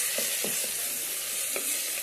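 Tomatoes stirred into a frying masala for paneer masala curry, a steady soft sizzle across the pan with a few light scraping stir strokes, close and moderately quiet, no talking.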